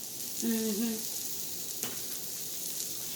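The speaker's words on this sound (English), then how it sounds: "And we're gonna let this burger cook." A seasoned chili bacon cheeseburger patty with cheese sizzles steadily in the pan, a constant close frying hiss with a brief tonal squeal early on.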